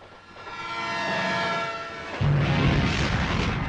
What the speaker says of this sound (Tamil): ட்ரெயின் வருதுல்ல